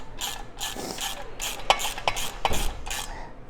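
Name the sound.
tightening bolts on Land Cruiser rear bumper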